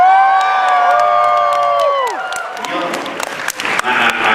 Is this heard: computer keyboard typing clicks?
no